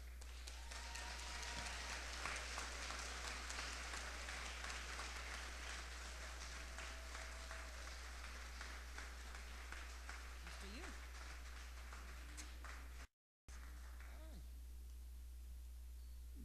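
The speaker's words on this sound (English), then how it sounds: "I want to take this opportunity to give a round of applause to Make the Road New York" A crowd at a festive Latino heritage event in Brooklyn applauds in a steady, dense wash of clapping that runs throughout, with voices and cheers mixed in and a brief gap near the end.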